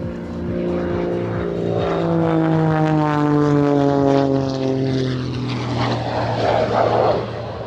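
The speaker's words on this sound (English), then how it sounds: "Definitely hear the jets on there." A loud jet aircraft roars steadily overhead at an air show, its droning tones gliding slowly downward as it passes close by, with no voices.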